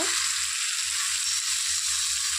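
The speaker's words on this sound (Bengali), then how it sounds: "মশলাটা ভাজা হয়ে গেছে এখন এর মধ্যে মাছগুলো দিয়ে দেব" Mustard and cashew masala for katla fish sizzles in a hot pan with a steady, loud, close frying hiss that runs unbroken throughout, with no one speaking.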